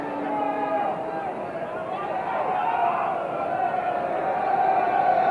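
A stadium crowd of well over 40,000 roaring in a continuous broad wash of cheering and singing at a rugby match, with a commentator talking over it.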